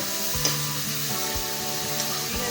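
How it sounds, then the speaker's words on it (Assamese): Spice masala of onion, ginger and garlic paste with cumin sizzles steadily in a hot pan. Low scraping strokes of a stirring spoon recur throughout the short stretch, with no talking. "মছলাখিনি ভালকৈ ভাজিব লাগিব।"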